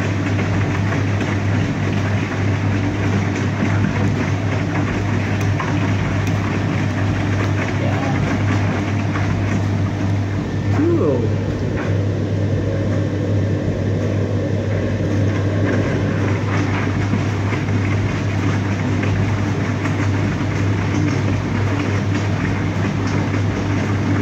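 An Electrolux Wascator W455H washing machine rinses a cotton wash with a constant low mechanical hum and steady churning and sloshing, unchanging and fairly loud throughout.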